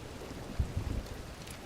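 Steady, soft rain falls in a video game set in the Diablo world, a faint continuous patter with a few low thuds near the middle, no talking.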